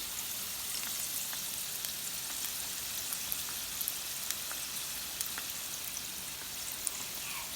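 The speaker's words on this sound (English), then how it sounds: "so that's telling you that it's frying pretty good" Egg rolls frying in hot oil, a steady soft sizzle with scattered small pops and crackles, heard alone and at close range.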